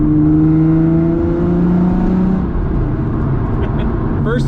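A Nissan 350Z's VQ engine hums steadily with a low, sustained drone, rising slightly in pitch before easing off, loud and close throughout.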